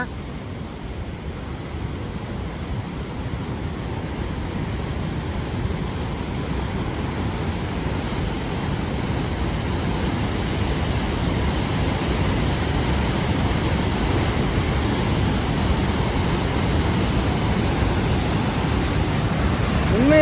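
Loud, unbroken roar of rushing flood water in a river, a dense rumbling wash that holds steady throughout and swells slightly toward the end.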